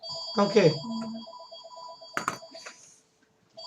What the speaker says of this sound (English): apologies for the phone ringing